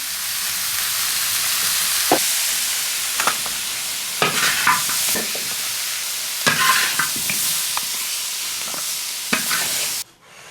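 Dry pot pork ribs stir-fried with sugar in a wok, a continuous close sizzle punctuated by several scraping spatula strokes, ending abruptly as the heat cuts out.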